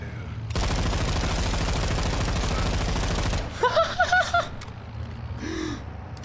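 Sustained automatic gunfire in the Call of Duty Modern Warfare 2 campaign: a dense, loud, rapid rattling burst lasting about three seconds, followed by a few high whistling chirps and a fainter trailing noise.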